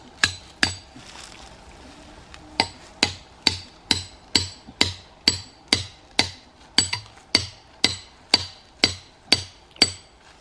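Steady, sharp metallic hammer blows drive a spike into a tree trunk at an even rhythm, one after another, after a few scattered opening hits, close and loud.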